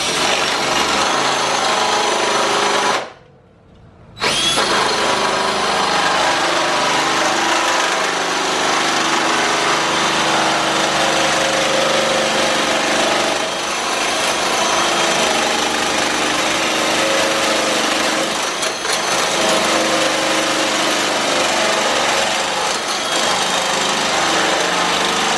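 Cordless power tool notching a steel pipe for an S10 one-piece front end, a loud, continuous grinding whine running nearly the whole time with one brief pause early on.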